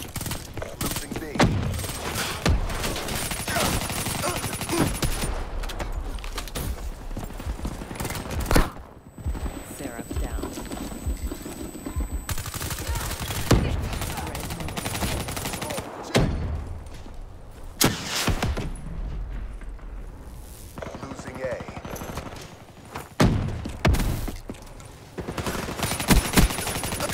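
Gunfire from a Call of Duty: Black Ops 3 multiplayer match: loud automatic bursts and single shots come in irregular clusters, broken by short lulls, along with game announcer callouts and occasional talk from a player.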